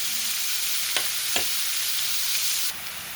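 Oil and onions frying in a pan for a plantain and fenugreek tamarind stew, a steady soft sizzle with a couple of sharp stirring clinks, no talking.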